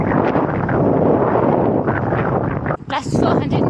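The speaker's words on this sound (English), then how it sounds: "really windy today" Strong wind buffeting the microphone during an outdoor run in the UK in winter, a loud continuous roar with gusty swells that briefly dips near the end.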